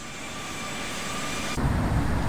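Jet engines of a Bombardier CRJ-200 small regional jet in a flight simulator game, a steady whining drone that grows louder and fuller partway through, with no talk.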